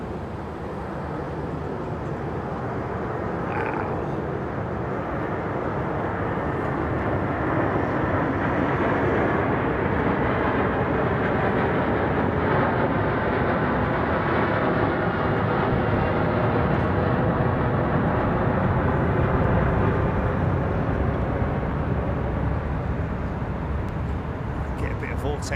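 A large passenger jet passes at London Heathrow Airport, a broad, steady roar that swells gradually and holds loud for about twenty-five seconds, with a low rumble underneath and faint voices talking over it.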